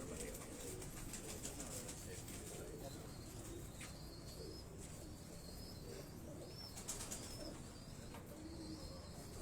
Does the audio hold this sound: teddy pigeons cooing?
yes